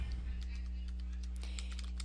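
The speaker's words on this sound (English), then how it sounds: "I'll type each one of these entries" Quick, steady typing on a computer keyboard, close and clear. The light key clicks keep coming over a constant low electrical hum.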